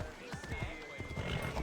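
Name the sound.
horse hooves and whinny in the video game Assassin's Creed Odyssey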